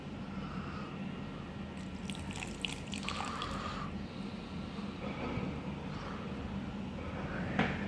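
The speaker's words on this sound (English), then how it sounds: "Now we'll add some water." Water poured from a container onto dry soil around an Arduino soil moisture sensor, a soft continuous trickle and splash under faint background noise, with a few brief drips.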